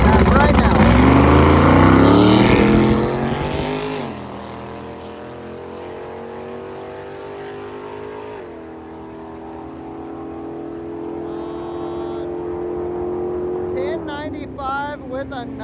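A drag racing car launching and accelerating down the strip, a loud roaring engine rising in pitch and fading into the distance, then crowd chatter and voices.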